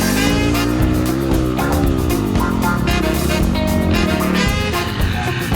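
A Yamaha WR250R dirt bike climbs a hill, its single-cylinder engine revving loud and close with rising and falling pitch as the throttle works, continuous and unbroken.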